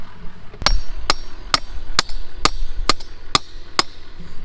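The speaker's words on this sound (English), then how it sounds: "I'm using a framing hammer because some reason I have no other hammers in my pickup right now" A framing hammer drives bent electric-fence posts back into the ground. Eight sharp, ringing metal-on-wood blows land at a steady, even pace, close and loud, with no talk.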